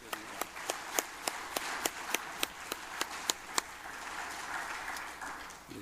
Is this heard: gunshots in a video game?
no